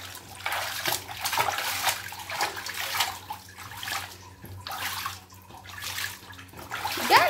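Water splashing and sloshing during bathing, with repeated watery surges and running-water texture over a low steady hum.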